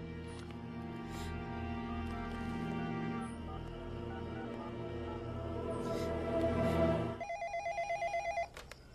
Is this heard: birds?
no